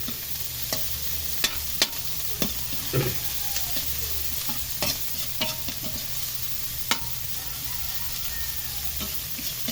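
Ginger sautéing in hot oil with garlic crackles in a steady, close sizzle, broken by frequent sharp clicks and scrapes of a spatula against the pan, with no talking.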